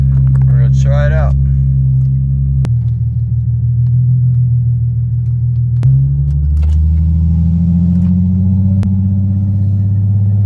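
A 2007-08 Infiniti G35 sedan with a VQ35HR engine drives after an ABS delete, a loud steady low engine and road rumble with a short burst of talk at the start and a few faint clicks.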